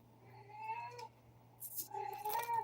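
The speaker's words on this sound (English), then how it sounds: "that's what my kitty says" A house cat gives two soft, drawn-out meows close by, separated by a short pause, over a faint steady hum.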